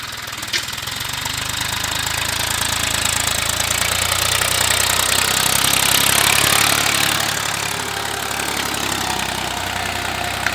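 A Massey 241 tractor engine running steadily nearby, a continuous rough diesel rumble with knocking texture that swells slightly in the middle and holds for about ten seconds without talk.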